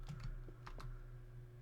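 Keys clack on a computer keyboard during Minecraft multiplayer server play, a few quick taps in short bursts, close and fairly quiet over a steady low hum.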